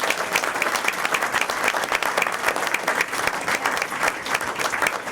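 An audience at a school district board meeting applauds students for reading 15 books; dense, steady clapping from a full room carries on throughout, loud and even, with no talk over it.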